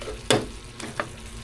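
Sauce being stirred in a frying pan for a Mang Tomas recipe, a sharp spoon scrape against the pan followed by a couple of softer stirring clicks over a low background hiss.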